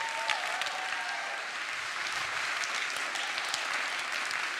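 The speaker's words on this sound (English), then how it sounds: "Clap your hands if you hear me" During a motivational talk the crowd breaks into continuous hand clapping, a steady wash of claps at moderate volume with a faint voice or whoop near the start.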